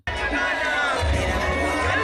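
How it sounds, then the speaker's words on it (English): A large crowd of supporters cheers and shouts at an outdoor political campaign rally, a steady roar of many voices held close and loud for a couple of seconds. "a mammoth crowd of his supporters waited to witness the launch of his first campaign rally"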